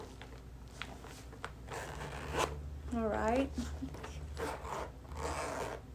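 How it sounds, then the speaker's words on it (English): The zipper on a luxury purse's middle compartment gives one quick, crisp, ratcheting rasp as it is pulled. Someone talks softly before and after it over a faint room hum. "Zipper slides so perfectly, guys."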